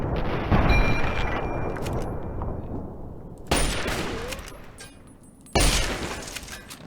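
Bursts of gunfire from the video game Fallout 3: a long loud volley opens, followed by two sharp, booming shots at intervals, with some glassy crackle.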